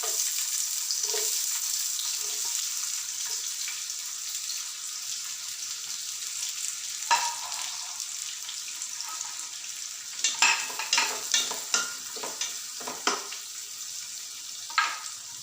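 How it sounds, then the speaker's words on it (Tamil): Sliced large onions frying until golden brown for chicken mandi, a continuous bright sizzle with intermittent stirring clatter and scrapes growing busier toward the end, no talking. "நல்லா கோல்டன் ப்ரௌன் வர வரைக்கும் நல்லா ஃப்ரை பண்ணிக்கலாம்."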